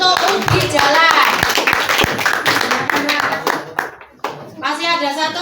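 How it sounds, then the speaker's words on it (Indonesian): Classmates in a grade 8 crafts class clap for a presenting group, the sharp hand claps scattered and partly buried under loud voices talking, with the clapping thinning out toward the end. "Oke, tepuk tangan untuk Ubi Jalan"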